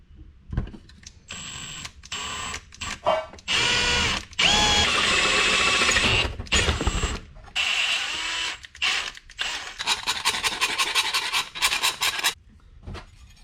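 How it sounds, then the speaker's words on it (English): A power drill bores a hole during installation prep for a Link G4+ ECU in a Nissan 180SX, with loud, close whirring bursts that start and stop between short silences and some scraping and grinding as the bit bites. "So I've drilled the hole out here."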